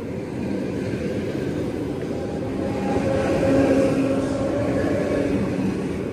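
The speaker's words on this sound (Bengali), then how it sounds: "আর ট্রেনের ভিতরে একটু আওয়াজ" Interior of a Russian local commuter train running near Moscow: a steady low rumble and rolling hum that swells slightly midway, with faint tonal whine, heard from inside the carriage without talk.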